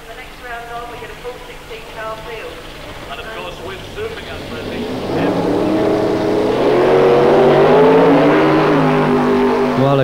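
Drag race cars, including a blue Camaro Z28, launch at the 1993 Goodguys UK Shootout at Avon Park, engine roar building loudly and rising in pitch under continuous commentary.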